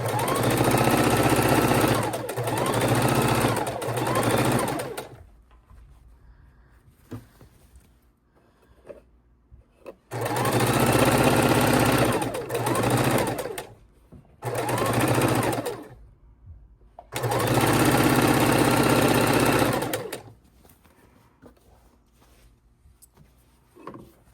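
Sewing machine stitching quilt fabric strips together, running in three long loud whirring bursts of several seconds each with quiet pauses between, close up and without talking.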